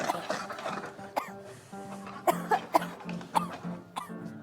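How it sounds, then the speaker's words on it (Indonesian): Several people cough repeatedly after eating very spicy food, with sharp, close coughs and throat-clearing scattered among chuckles and murmured voices, in a studio show setting. "Jadi batuk semua ini."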